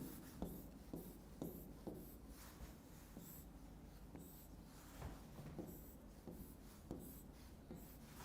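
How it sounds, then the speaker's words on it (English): A pen writing during a chemistry lesson, giving quiet, rhythmic scratching strokes with short taps at irregular intervals over a soft background hiss, close and faint. "Here I am writing."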